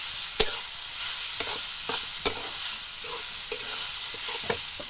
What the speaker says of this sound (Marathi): आणि हे परतून घेऊ।